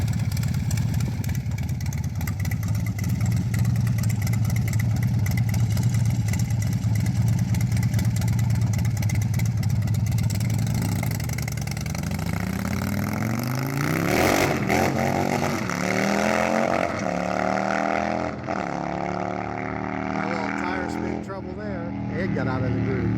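A Harley-Davidson Dyna Super Glide performance build runs close and loud, with a steady engine drone that rises into rising and falling revs in the second half.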